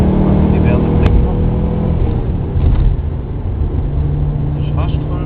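A car engine runs at almost full throttle, a loud steady low roar with a dense drone that holds throughout, close by, with a brief sharper click early on and speech mixed in under the engine noise.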